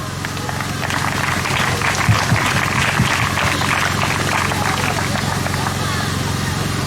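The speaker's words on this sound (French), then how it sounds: "je vous demande d'acclamer" Audience applause at a ceremony launching construction works for a school, a steady dense wash of clapping over a crowd with an announcer's voice over the top.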